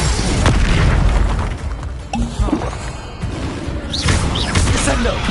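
A Confringo blasting spell goes off in the game Hogwarts Legacy with a loud, close booming explosion and a crashing burst. Further spell impacts and whooshes follow amid busy combat noise.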